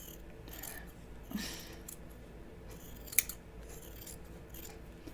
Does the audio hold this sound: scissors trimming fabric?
yes